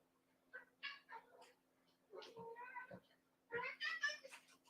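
A cat cries with several short plaintive meows spaced through the clip, close but fairly quiet, alongside a steady low electrical hum.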